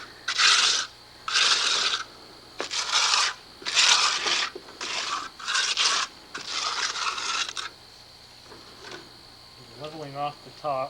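A trowel or board scrapes across wet concrete in a form at a stone house build, a series of loud rhythmic rasping strokes in bursts, followed by quieter handling noises and a faint voice near the end.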